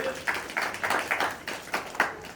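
Scattered applause from a small audience at an annual community meeting, with a few separate claps in an uneven rhythm that build into short bursts. The clapping is close and moderately loud, with no talking over it.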